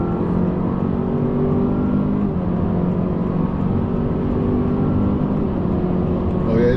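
Heard from inside the cabin, a 2026 Honda CR-V Sport L accelerates hard with a steady, loud engine drone and road roar, and its pitch eases slightly as it shifts gears.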